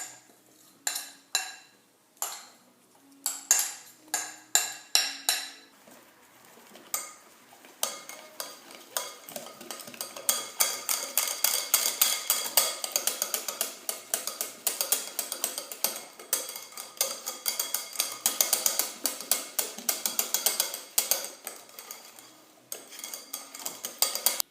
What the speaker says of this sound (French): maintenant dans une des parties, je vais mettre le chocolat fondu